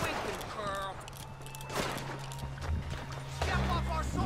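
A few scattered gunshots in Red Dead Redemption 2, fairly faint and spaced apart amid hoofbeats and game ambience, with someone talking over much of it.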